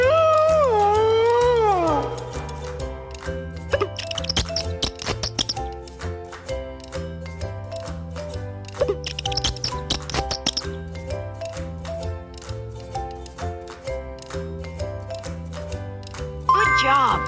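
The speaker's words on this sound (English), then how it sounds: "Mouse!" A cartoonish mouse squeaks in high, gliding chirps at the start of an animal sound guessing game for kids, followed by bright, jingly, plinking music with repeated tinkly accents and a steady rhythmic backing.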